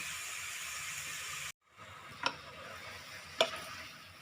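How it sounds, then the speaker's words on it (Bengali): Grated carrots being stirred in hot ghee for carrot halwa give a faint, low sizzle with a couple of soft spoon scrapes and clicks, quiet and close, with no talking. "বারবার ঘিয়ে নেড়ে নেড়ে জল শুকিয়ে তারপরে সব জিনিসগুলো অ্যাড করব।"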